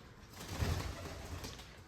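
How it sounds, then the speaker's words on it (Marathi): Jacobin pigeon cooing softly and close by, a low throaty coo swelling briefly near the middle, with no talk over it. "तुम्हाला दाखवतो मित्रांनो नवीन कबूतर"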